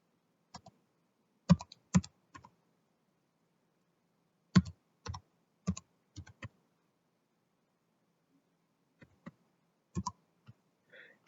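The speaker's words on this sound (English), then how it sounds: "Then you will type in your username." Sparse bursts of keystrokes on a computer keyboard as a username is entered, clustered clicks separated by pauses, fairly close and clean with no talking.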